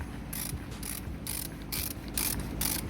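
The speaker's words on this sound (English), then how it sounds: "Crack it with that first, then take it off with the ratchet." A ratchet loosens the oil filter housing on a SEAT Altea, giving a quick series of close, crisp clicking bursts in an uneven rhythm, with no talk.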